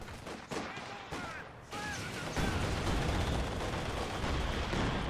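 Artillery shells pounding a squad in a Company of Heroes 2 four-versus-four match on the Lorch map, producing repeated blasts and rumbling impacts that build into a dense, continuous barrage, with a commentator's voice faintly underneath.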